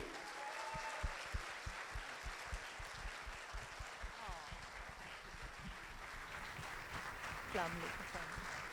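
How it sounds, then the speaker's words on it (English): An audience at an IAK Talks event in Karachi gives a warm round of applause for a legendary actress, dense steady clapping over several seconds with faint voices mixed in. "Please give the biggest round of applause for a legend, Bushra Ansari."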